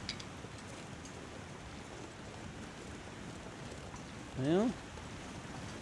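Steady broadband wash of flowing water from the video game The Long Dark, a constant low rushing bed throughout, with a brief louder burst near the end and a short spoken word at the start.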